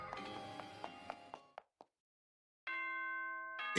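A Danganronpa 2 announcement chime sounds as a series of quick descending bell-like dings that fade out, then after a short silence a sustained, bright chord rings alone and loud.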